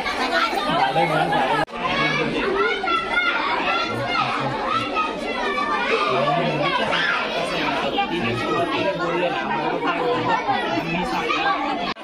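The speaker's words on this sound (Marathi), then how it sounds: "खूपच गर्दी या ठिकाणी" A large crowd chattering at a Shiv Jayanti celebration in Sapgaon village, many overlapping voices and children's calls forming a dense, continuous babble close around.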